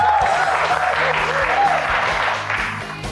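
Applause for Mani sir at an office gathering in a Marathi serial, a loud, dense burst of clapping from a group, close and sustained, fading slightly at the end with faint voices underneath.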